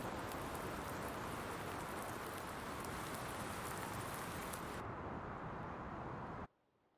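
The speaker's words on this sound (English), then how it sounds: "we have a fair frequent chance of rain on the map" Constant heavy rainfall washes over the Florida-set Emerald Coast video game map, a close, even hiss that softens slightly near the end and then cuts off abruptly.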